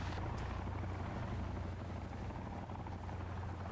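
Helicopter in the video game Sons Of The Forest, a steady low rotor drone and rumble held at an even level throughout, with no voices over it.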